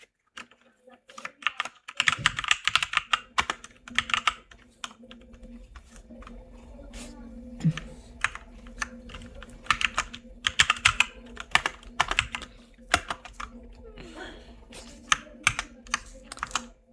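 Rapid typing on a computer keyboard while entering course details into a PowerPoint text box, close and fairly quiet bursts of clicking keys in uneven runs with short pauses, under intermittent speech.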